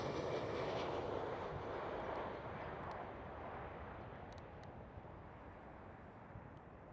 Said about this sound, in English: Next one up, Transavia 737.